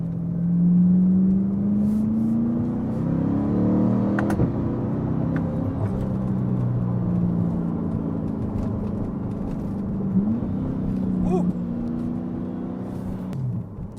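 A C8 Corvette's engine accelerates with a loud, steady mid-engine roar, its pitch climbing and shifting through gear changes over continuous interior cabin rumble.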